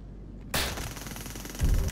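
A single sharp, loud gunshot cracks out of near silence, then leaves a sustained noisy ring. A heavier low rumble swells just before the end.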